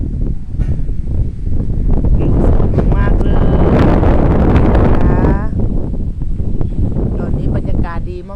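Strong gusts at a Phuket viewpoint buffet the microphone with loud, steady roaring rumble throughout, while someone talks over it.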